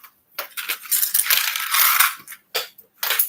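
A small sewing clip falls and clatters, heard as a burst of sharp, close metallic rattles and ticks with brief gaps between them.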